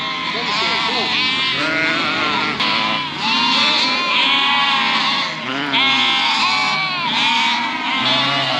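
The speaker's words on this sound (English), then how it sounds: "These are a maternal breed, they're purebred Clik lambs." Purebred Clik lambs, a maternal sheep breed, bleating loudly and continuously in a crowded pen, many overlapping cries close by with a voice talking over them.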